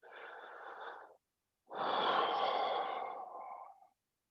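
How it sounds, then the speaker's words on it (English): Deep, slow breathing during a stretching exercise: a short inhale followed by a longer, fuller exhale, close and breathy with no talking. "Again, we're going to take nice big breaths."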